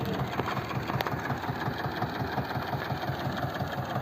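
A tractor engine runs steadily at a farm, with a close, even low throb and a regular knocking pulse throughout, heard alone without talk.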